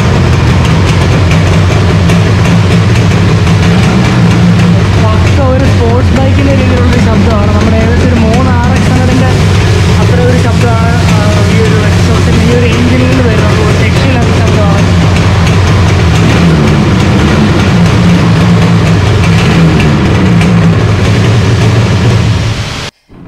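A 1983 Yamaha RD350 motorcycle, a two-stroke sports bike with a tin exhaust, idles close by in a loud, steady, low rumble that runs unbroken for about 23 seconds and cuts off abruptly at the end.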